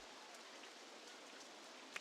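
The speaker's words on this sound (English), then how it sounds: "it's raining" Rain in Rollercoaster Tycoon, a soft, even patter of falling drops hissing steadily and faintly for two seconds, with one small tap near the end.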